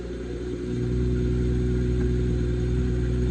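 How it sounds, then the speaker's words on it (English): A sports car engine runs loud and steady up close, its deep rumble swelling slightly in the first second and then holding a constant throaty drone. "You can hear the engine in full force."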